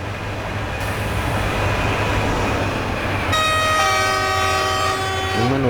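A train passing in Train Simulator 2019, on the EuroCity 159 Vienna–Zagreb service, with a steady loud rolling rumble and a long sustained horn blast joining near the end, heard close and without talk.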